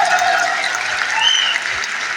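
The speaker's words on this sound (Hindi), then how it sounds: "मुकेश जी के लिए एक जोर से तालियां बजाइए" Steady applause from a crowd at Tyagraj Stadium, Delhi, dense and continuous for the whole stretch, with a faint whistle-like tone briefly rising above it.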